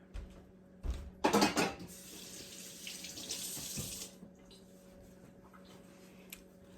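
Water from a kitchen faucet runs into a sink while canned stewed tomatoes are handled, with a few clanks of dishes and cutlery first, then a steady moderate splash that cuts off.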